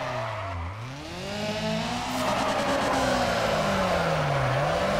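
Race cars drifting in the Need For Speed ProStreet video game, engines whining up and down in pitch over a continuous loud tire squeal and skidding, sustained throughout.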